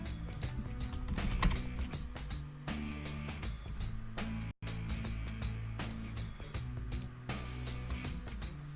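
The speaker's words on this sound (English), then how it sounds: "I pressed up arrow on my keyboard." Typing on a computer keyboard while working at a PC, a steady run of close clicking keystrokes over a dense background of other noise, with one brief dropout near the middle.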